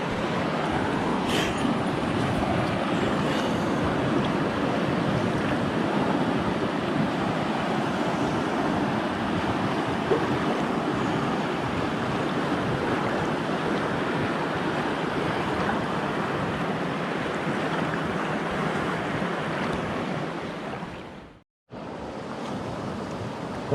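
Steady broadband rush of river water flowing past a small sandy beach on an Idaho river, continuous and fairly loud with wind-like wash throughout, briefly cutting out near the end.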